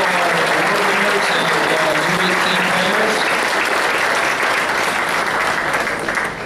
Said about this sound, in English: give a big round of applause to all of our winners